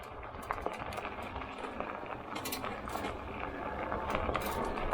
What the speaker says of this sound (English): Keep them splashing up on my feet and stuff.